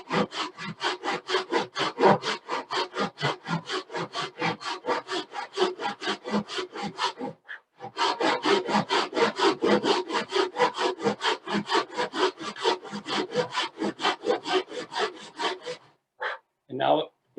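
A hand saw cuts across a wooden board in steady, rapid back-and-forth rasping strokes, close and clear, with one brief pause partway through and a few final slower strokes at the end.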